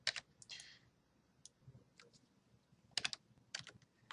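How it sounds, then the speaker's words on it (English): Numbers are tapped quickly on a computer keyboard in a quiet room, a scattered series of crisp, close key clicks in short bursts. "So I'm going to type some bogus numbers in here."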